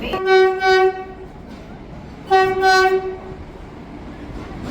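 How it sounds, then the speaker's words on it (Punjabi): Two long, loud blasts of the Chandigarh Express train horn sound close by over a rumbling background of rolling carriages as it arrives at Ambala Cantt railway station. "ਇਹ ਹੈ ਚੰਡੀਗੜ੍ਹ ਐਕਸਪ੍ਰੈਸ ਲਖਨਊ ਚੰਡੀਗੜ੍ਹ ਪ੍ਰਗਰਾਜ ਤੋਂ ਆਈ ਆ"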